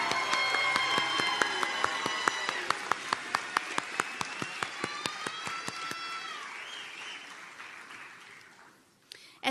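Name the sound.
audience applause for nursing graduates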